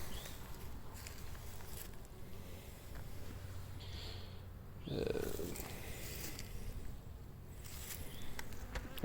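Honeybees at a hive in winter give a continuous low, dense buzzing hum, close to the hive, with faint shuffling and a slight swell partway through.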